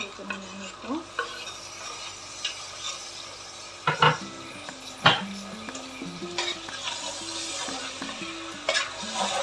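Tomato goes into a frying pan for pepper chicken gravy and is stirred in a home kitchen. Soft sizzling runs under scattered utensil scrapes and clacks, with a couple of sharper knocks against the pan.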